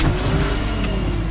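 Iron Man's car driving in the Fortnite video game, a steady engine hum with a couple of brief high whooshes, close and loud with no talk.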